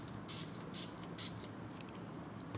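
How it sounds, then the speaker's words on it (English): Makeup setting spray is misted onto skin in several short, close, airy bursts of spray at an uneven rhythm, quiet in an otherwise still room. "I just spray some setting spray as a primer."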